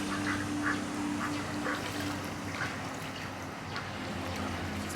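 A duck quacks in a series of short, fairly faint calls spaced about half a second apart, set against steady outdoor background noise with a low hum, and no talking.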